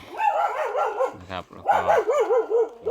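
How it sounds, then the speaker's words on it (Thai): A dog barks in a Thai home setting, a few sharp barks in the middle of the clip with someone talking over most of it. "เสียงหมาเห่า"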